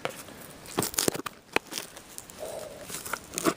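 Scissors slicing open a cardboard box of Atari Lynx games, heard as a few sharp crinkling snips and tearing crackles near the microphone, with a short scraping cut midway and no talk.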